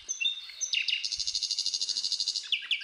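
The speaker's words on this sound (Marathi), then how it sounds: "चिवचिवणारी चिमणी प्रत्येकाला आवडणारी," House sparrows chirp close by in a rapid, even trill of bright repeated notes, with a few separate chirps before and after, heard alone.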